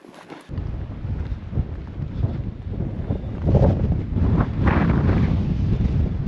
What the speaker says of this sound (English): Really windy out right now